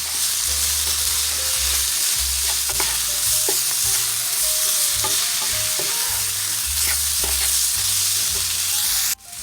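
Meat sauce with Worcestershire, beef bouillon and red pepper flakes sizzles loudly in a pan as a utensil stirs and scrapes through it in steady strokes, close and continuous.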